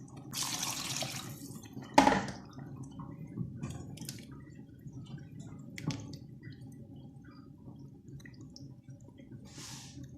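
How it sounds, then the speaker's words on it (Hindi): A little water poured into a pot of rice for chana pulao, with a short splash and scattered drips and trickles, close and fairly quiet, no talk. "इसमें मैं थोड़ा सा पानी और डालती हूँ।"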